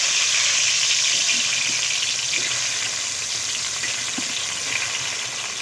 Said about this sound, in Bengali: আলুগুলোকে একদম পুরো লাল লাল করে আমি ভেজে নেব